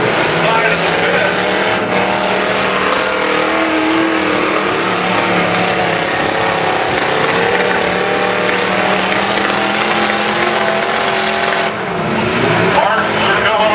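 Demolition derby trucks roar continuously at an Iowa county fair feature, loud engine drone with grinding and revving throughout, with a commentator talking over the crashing action.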